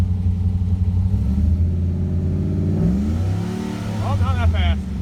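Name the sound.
Ford Crown Victoria engine revving at fast idle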